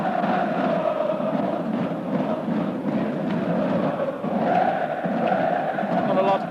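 Fanatical Galatasaray home crowd at a 1993 football match against Manchester United, a continuous loud roar of chanting and cheering with a commentator talking over it.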